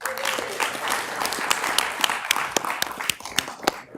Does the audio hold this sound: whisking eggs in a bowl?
no